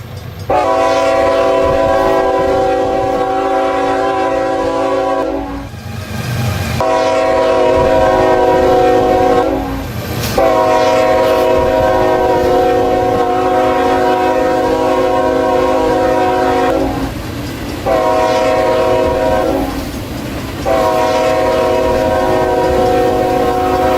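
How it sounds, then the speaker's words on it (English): Fast approaching train sounding its horn in long, loud, sustained chords, broken by a few short gaps, over a constant rumble of rolling wheels. "So we're hearing the train horn as coming at really fast speeds."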